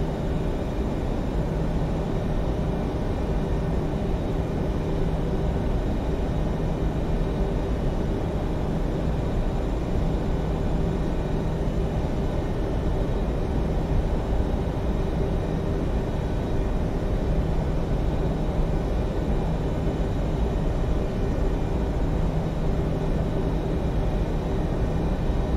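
An airliner taking off from Bucharest in the Prepar3D v4.3 flight simulator game, a steady, loud, broadband engine roar with a low hum that holds evenly throughout, with no talking.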